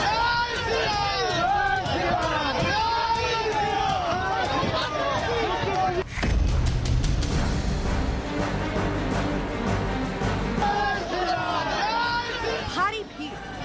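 A large crowd at an election road show in Nandigram, loud continuous cheering and chatter with rhythmic shouts, interrupted midway by a burst of heavy low rumbling and clatter before the voices return.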